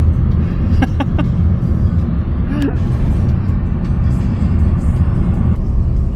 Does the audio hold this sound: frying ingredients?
no